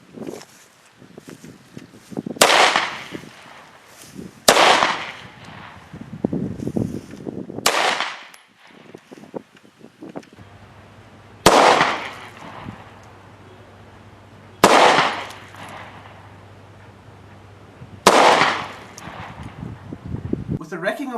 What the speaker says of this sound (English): it just seems so natural to put round after round down range